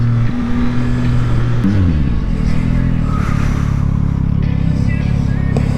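Yamaha MT-09 motorcycle ridden on a highway, its engine droning loud and steady with a gear change partway through, wind roar filling the background throughout.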